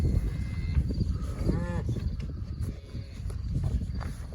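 Farm cattle offered watermelon rinds give a short, distant moo over a steady low rumble and scattered clatter around the yard.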